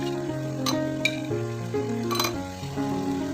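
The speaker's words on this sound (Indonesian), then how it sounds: "Aduk merata, kemudian masak hingga kira-kira bumbu ataupun kuahnya itu meresap ke dalam tahu serta ke dalam bakso ikannya" Fried tofu and fish balls are stirred in simmering broth in a pan, with steady bubbling sizzle and a few sharp utensil clinks against the pot.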